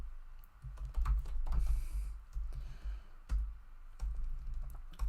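Rapid, uneven keystrokes on a computer keyboard, close and fairly loud, with short bursts and brief pauses and no talking.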